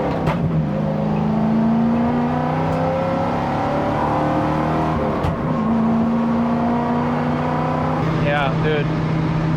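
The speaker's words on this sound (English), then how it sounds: "All right, let's go for a little test drive, see how this thing goes." A car engine hums and rises in pitch as it drives and shifts gears on a test drive with new coilovers fitted, heard from inside the cabin, with someone speaking briefly near the end.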